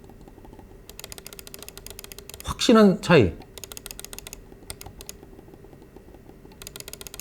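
A Logitech silent trackball mouse, an MX Ergo S or Ergo M575S, makes rapid, soft, muffled button clicks in quick runs. Someone speaks briefly over them partway through.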